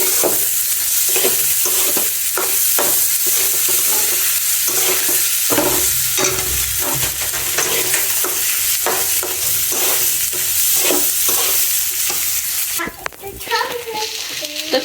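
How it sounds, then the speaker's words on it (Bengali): Pulao rice sizzles in hot ghee while a spoon scrapes and stirs it in a steady rhythm, roughly once a second, with a brief pause near the end. "পোলাও চালগুলো দিয়ে দিলাম এখন ঘি ভেজে নেবো খুব সুন্দর করে"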